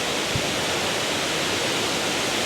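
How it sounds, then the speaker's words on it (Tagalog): Balabag Waterfall in Real, Quezon, a tall drop of about 70 meters, gives a dense, unbroken roar of falling water that stays steady throughout, with no voices. "ito yung pinakasikip na waterfall here in Real, Balabag Waterfall"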